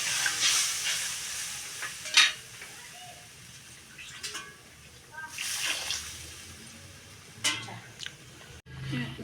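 Stirring in a pan of small puti fish, helencha greens and potato curry just after water is added, with intermittent scraping and stirring strokes over a soft simmering sizzle, fairly close and moderate in volume.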